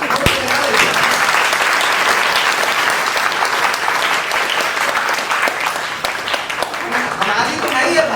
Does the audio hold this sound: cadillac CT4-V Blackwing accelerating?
no